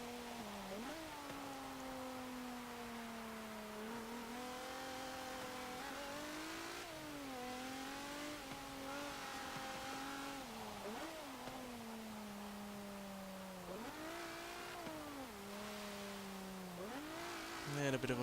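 A 2014 Volkswagen Golf R engine in Forza Motorsport 7 revs steadily and climbs through gears, pitch rising and dropping with shifts, loud and continuous, with brief tire noise near the end.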